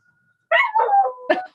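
Panther, a pet puppy, lets out a few short, wavering howls, tonal rising and falling cries close by, separated by brief pauses.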